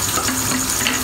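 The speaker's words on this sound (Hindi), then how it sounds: "अब हम कुटी हुई लाल मिर्च डालेंगे" Crushed red chili going into hot oil for beef biryani, a steady close sizzle and frying hiss that runs unbroken through the moment, with a faint tonal hum underneath and no talking.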